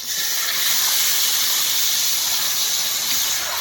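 Meat hitting a hot pan with dried chillies, bay leaves, onion and tomato, giving a loud steady sizzling hiss that holds without a break.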